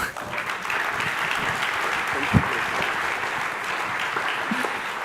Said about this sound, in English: So I think it deserves another applause.